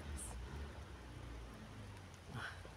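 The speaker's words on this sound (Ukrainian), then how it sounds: "Такий дощик зривається, зривається." Light rain begins to fall in a rose garden, making a faint, steady hiss of patter with occasional soft drops. Quiet and continuous throughout, with no clear talk over it.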